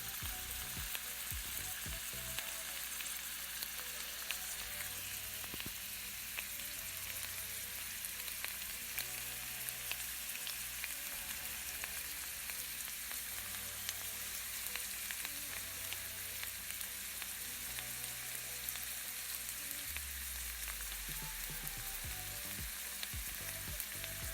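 Spice paste frying in hot oil, a constant close sizzle and crackle with faint stirring, no talking.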